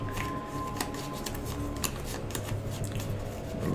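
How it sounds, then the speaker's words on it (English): Playing cards being shuffled during a tabletop game of Mansions of Madness 2nd Edition, giving repeated short riffling and snapping bursts close by over a steady background hum. "So I'm going to shuffle."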